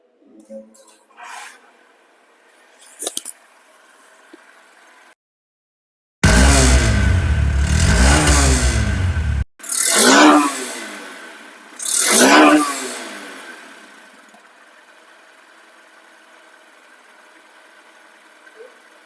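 A Honda SP 125 fuel-injected motorcycle engine, a second-hand bike, bursts into loud running for several seconds, then gives two sharp revs that rise and fall, with quieter handling noises before.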